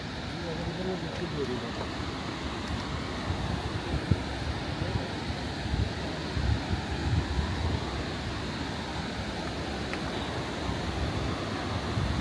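A mountain river rushes past Govind Ghat gurdwara on the Hemkunt Sahib route. The roar of the water is steady and broadband and fills the whole stretch with wind-like noise, with no talk over it.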